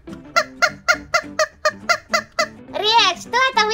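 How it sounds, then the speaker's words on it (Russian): A squeaky rubber chicken toy squeezed repeatedly, giving about ten sharp, evenly spaced honking squeaks, then a longer drawn-out wavering squeal, loud and close, with no voices. "Что это так пищит? Ой, какая смешная курочка!"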